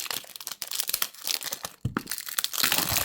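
Cardboard and paper packaging of a perfume box crinkles and rustles as it is opened. There is a rapid run of close, irregular crackles and tearing scrapes that swells into a denser rustle at the end.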